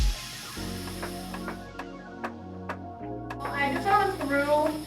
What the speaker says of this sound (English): Now I'm going to go through and start spraying from back to front.